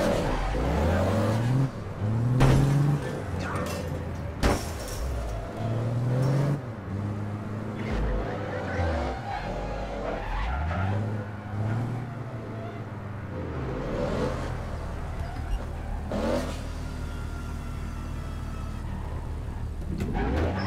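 Engine of a car driven in the APB Reloaded video game, revving up and down through repeated acceleration sweeps with occasional thumps, steady and close throughout, with no talking.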